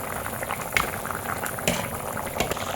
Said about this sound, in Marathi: छान अशी उसळ आपली मस्त उकळते